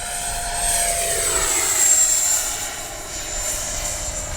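An FMS 80mm F-86 RC jet's ducted fan engine throttles up in flight, a loud steady whooshing whine that swells slightly, rising in pitch and fading as the model passes.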